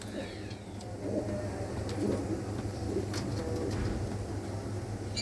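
Pigeons kept in pairs in a coop coo softly and continuously under a low steady hum, with faint rustling and occasional small knocks nearby.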